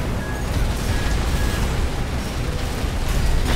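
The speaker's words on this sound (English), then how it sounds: "Oh, they had an explosion." A loud, sustained explosion roars through Armored Core 6 mech combat, a dense booming blast with rumbling low end that fills the whole stretch without a break.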